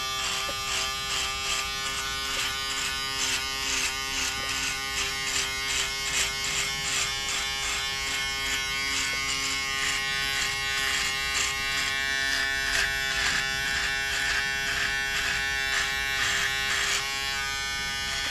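An electric shaver runs continuously, a steady close buzzing hum that holds without pause, with no talk over it.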